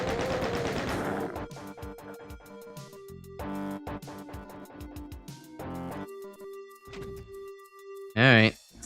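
Chaingunner enemies firing in DOOM: The Plutonia Experiment, rapid bursts of repeated gunshots over several seconds alongside tonal game effects and a sharp bright burst near the end.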